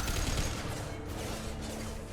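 Rapid rifle gunfire in a firefight in the video game Mass Effect, a dense, steady barrage of shots filling the whole stretch at close range with no voices over it.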